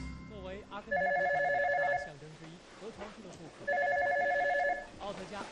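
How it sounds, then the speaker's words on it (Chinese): An old-style telephone bell rings in two loud bursts of about a second each, separated by a pause, in an indoor scene with voices around it. "电话小半天怎么不接呀？"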